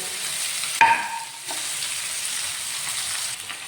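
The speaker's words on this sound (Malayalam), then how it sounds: "ഇനി എണ്ണ ചൂടായി വരുമ്പോഴത്തേക്കും ഇത് ഓരോന്നും ഇട്ട് കൊടുത്ത് ചെറുതായിട്ടൊന്ന് മൂപ്പിച്ചെടുക്കണം" Snacks dropped one by one into hot oil in a pan, a steady bright sizzle with a sharp splash and clink early on, then an even hiss without talking.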